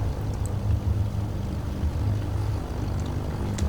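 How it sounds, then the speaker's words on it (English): Twin-engine Milviz Cessna 310R in Microsoft Flight Simulator, right engine cranking and catching, a steady low piston drone with faint ticks and clicks above it, fairly loud and continuous with no talk. "Primer to right and restart the right engine."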